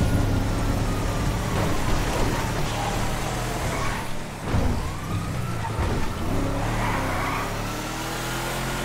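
A police car siren in the video game GTA V wails over a continuous roar of car engines and traffic, rising and falling steadily throughout at a fairly loud level.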